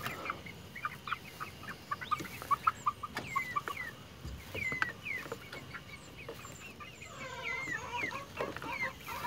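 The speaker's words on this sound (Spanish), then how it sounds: "Vamos ahora a revisar a los otros pollos" Chickens in a backyard coop cluck and chatter steadily, with several birds calling at moderate distance and sharp short clucks scattered over a low ambient background.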